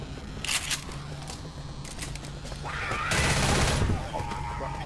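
Rapid bursts of shotgun fire in the video game Left 4 Dead crack repeatedly amid other game noise, with excited voices talking over the action.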